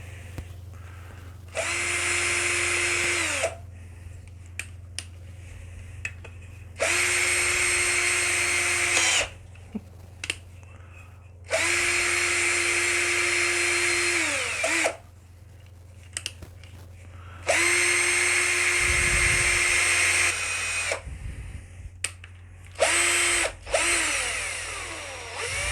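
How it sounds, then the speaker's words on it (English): A cordless drill spins freely in repeated bursts of about two seconds each, separated by short pauses, a steady loud whine during an actuator build for a sim racing motion platform, with a low background hum underneath. "cordless drill."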